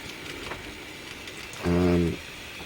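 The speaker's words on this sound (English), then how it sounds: "we'll watch this CSX manifest go by over the crossing" On a model railroad layout, a CSX manifest train crosses a road crossing and its horn gives one loud, steady half-second blast over quiet running noise.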